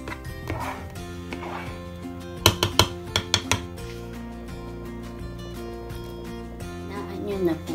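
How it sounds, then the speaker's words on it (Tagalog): Dry pasta going into a pot of boiling carbonara sauce on the stove makes a quick cluster of sharp metallic clinks and clatter over a steady low kitchen hum, with quieter bubbling before and after. "Pwede na po natin lagay ang atin pong pasta."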